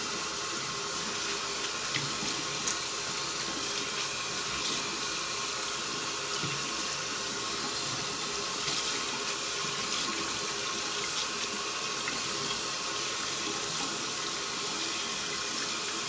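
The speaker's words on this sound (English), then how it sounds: "rinse out this bowl real quick" Running tap water rinsing out a shaving bowl at a sink, a steady, continuous splashing hiss at moderate volume with no talking.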